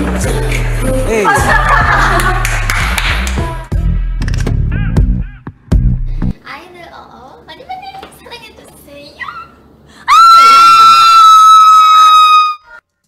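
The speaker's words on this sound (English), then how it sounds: "that screaming scared the shit out of me" In a K-pop music video, loud music and speech give way to a sudden piercing, sustained high scream near the end, very loud and harsh.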